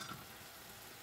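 Food frying in a pan hisses softly and evenly, a faint, short stretch of sizzle with a slight scrape of stirring at the start.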